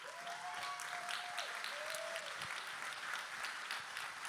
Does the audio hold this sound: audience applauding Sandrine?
yes